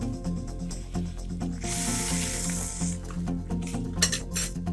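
Fish fillet searing in a pan for a mustard butter sauce dish, a steady close sizzle and hiss with faint clinks of utensils throughout.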